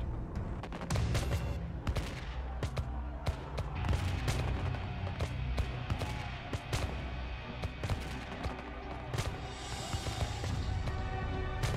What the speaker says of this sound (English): Gunsmith and militia leader Isaac Davis takes a bullet through the heart.